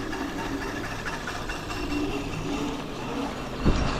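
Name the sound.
Nissan GTR wheel noise sounding like a train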